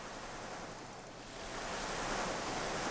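Water from a splash boat ride in Roller Coaster Tycoon 2 rushes and splashes in a steady surf-like wash that swells louder halfway through, with no talking.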